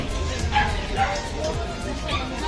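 Dog barking outdoors, a few sharp yips and barks at moderate distance mixed with background crowd murmur and people talking.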